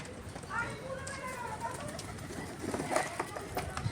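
Wild pigeons coo softly in low, rolling calls nearby while a person talks over them.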